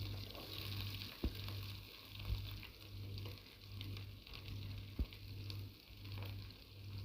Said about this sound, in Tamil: இப்போ கறிவேப்பிலை போட்டதுக்கப்புறம் நம்ம பெரிய வெங்காயம் கட் பண்ணதை ஆட் பண்ணிக்கலாம்.